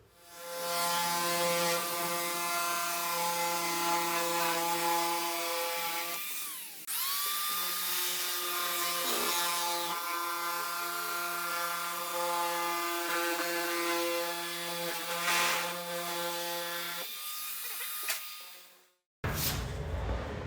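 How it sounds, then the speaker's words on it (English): A high-pitched power cutting tool whines steadily as it cuts a modified car body panel, running for long stretches with a brief dip in pitch and a short pause near the end. "cut a little bit inside the line that he just traced to give him a little bit of space for the hem"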